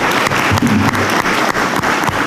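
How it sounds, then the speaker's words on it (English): A school board meeting audience applauds state medal winners, a brief, loud burst of many hands clapping in a room, dense and continuous for a couple of seconds. "Let's give them a round of applause."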